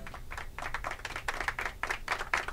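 Group of characters clapping for a child in The Walking Dead: 400 Days game, a steady run of close, crisp hand claps lasting a few seconds over a low background hum.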